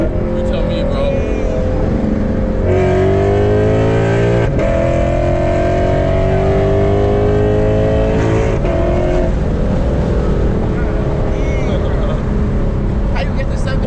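Lexus RC F with bolt-on modifications accelerates hard, its engine roaring loud and close from the cabin with rising pitch through gear changes, while people talk over it.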